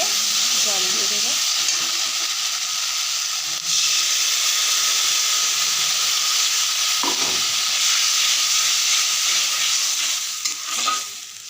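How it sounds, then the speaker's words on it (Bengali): Water poured into hot frying spice paste bursts into a loud, continuous sizzling hiss with bubbling that carries on steadily, close up and with no talk. "এবার আমি এতে জল দিয়ে দেবো।"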